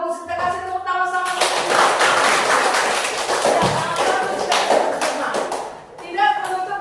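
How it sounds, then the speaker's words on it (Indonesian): Classroom audience clapping hands during a school guidance lesson, a short burst of scattered claps under a steady murmur, with voices talking at the start and end. "Kita kasih tepuk tangan sama"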